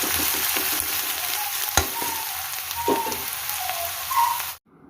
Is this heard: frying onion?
yes